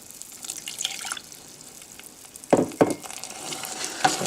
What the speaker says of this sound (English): So we'll add that water.